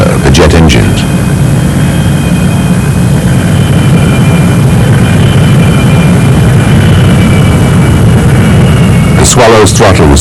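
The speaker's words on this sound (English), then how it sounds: "an ME262 student pilot begins his taxi" A Messerschmitt ME262 jet taxis with its engines running, giving a loud, continuous low roar and rumble that stays steady, with brief voice-like bursts at the start and end.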